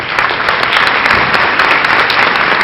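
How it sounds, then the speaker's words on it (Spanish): Audience applause at a congress inauguration ceremony welcoming guests to the head table, a loud, steady burst of many hands clapping throughout, dense and close with no voices over it. "a quienes recibimos con un fuerte aplauso"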